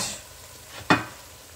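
Onions frying in oil in a pot with a soft steady sizzle, then one sharp scrape as a spoon stirs them, brief and close.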